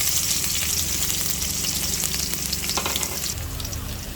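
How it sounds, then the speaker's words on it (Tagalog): Garlic and onion sauté in a hot pan with a steady, close sizzle and frying crackle throughout, with occasional stirring scrapes and no talking. "Magisa na po tayo ng bawang sibuyas."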